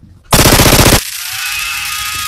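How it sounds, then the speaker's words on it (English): Loud burst of rapid machine-gun fire from a comedy skit, a dense rattling volley of under a second that cuts off into a lingering ringing tone. "Jace, are they shooting?"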